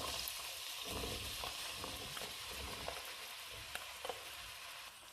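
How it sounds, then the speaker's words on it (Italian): Eggplant and potatoes fry in a pan with melted anchovies, giving a continuous close hiss with scattered small pops and crackles, and no voices. "possiamo aggiungere in padella melanzane e patate"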